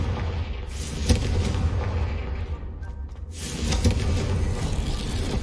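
A Confringo blasting spell in Hogwarts Legacy, with booming explosive thumps and a rumbling roar over steady in-game ambience, one sharp hit early and another later.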